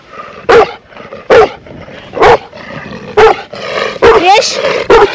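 Romanian shepherd sheepdogs in the Țarcu Mountains bark and growl close by: loud, sharp barks repeating about every second, mixed with rough growls and yelps on a mountain hike.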